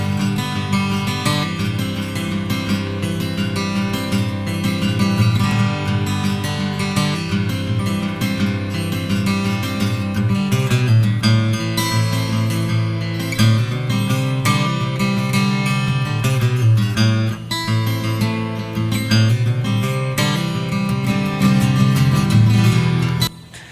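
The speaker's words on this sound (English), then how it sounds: "it's playing this really cool kind of rhythm comping hybrid picking thing." Sunburst Eastman E10SS acoustic guitar plays hybrid-picked rhythm comping with chord lead-ins and embellishments, a steady, full-bodied strummed and plucked pattern that runs unbroken and alone, with no talking.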